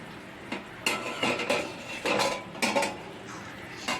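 A lid goes onto a pot of half-boiled potatoes in water, with several close metallic clanks and scrapes of cookware in an uneven rhythm and no voices.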